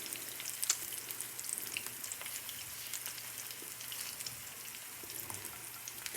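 Fish roe skeins fry in a hot pan, a steady close hiss of sizzling oil with fine crackles and pops scattered throughout, even in level and with no voices.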